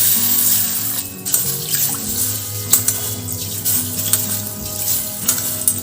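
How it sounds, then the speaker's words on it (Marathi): Small sprouting moth beans, a local village variety, are rinsed in water. Beans are rubbed by hand and water sloshes, splashes and drips steadily and close, with soft bumps and clinks and no talk. "आपण आता पाण्याने स्वच्छ धुवून घेऊ"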